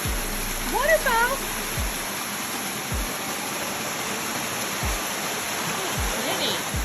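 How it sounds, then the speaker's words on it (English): A waterfall along the Hawks Nest State Park rail trail in Ansted, West Virginia rushes in a steady, full hiss, with faint bird calls and scattered low thumps over it. "Waterfall! Oh my goodness! Waterfall!"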